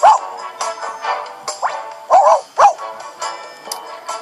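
A small cartoon dog in the video game Disney Magical World gives repeated short yips and barks, about eight bursts at irregular intervals, clear and close with quiet gaps between.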